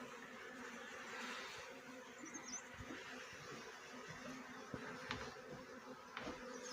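Honeybees buzz in a steady, dense drone as they are shifted from a cowshed cupboard into a hive box, with a few soft knocks and handling sounds over the continuous hum.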